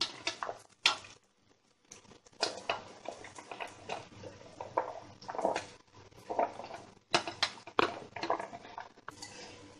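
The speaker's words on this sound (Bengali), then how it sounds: "এবার এটাকে ভালো করে মিশিয়ে নেব, ফ্রুট সবজি এর মধ্যে দিয়ে দেব।" Fruit and vegetable salad with two tablespoons of vinegar tossed by hand in a bowl, soft wet squishes and light clinks coming in irregular bursts, close and quiet.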